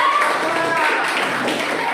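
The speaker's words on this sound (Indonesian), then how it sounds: "Oke, tepuk tangan." A crowd of hands clapping together in steady, dense applause, filling the whole moment without a break.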